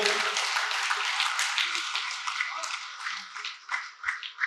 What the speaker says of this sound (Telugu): ఆయనకు ఒకసారి గట్టి క్లాప్స్ కొడుతూ మన స్టేజ్ మీదకి ఆహ్వానించుకుందాం